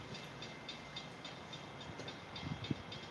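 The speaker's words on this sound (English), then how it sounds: "It's definitely not a train coming, but it's some type of service vehicle coming." Rail service vehicle approaching along the tracks at night, a low rumble with faint rhythmic clicking that swells slightly as it nears, with no talking.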